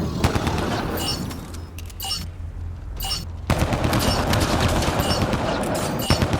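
Sustained automatic gunfire in a video game battle, rapid bursts of loud shots with a brief lull in the middle before heavy firing resumes.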